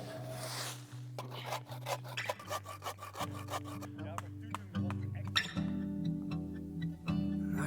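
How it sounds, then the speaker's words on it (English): A Jaktkit KNV2 knife is sharpened with a run of short, rasping strokes in a steady back-and-forth rhythm, fairly close, with tonal music playing underneath. "I sharpen my knife"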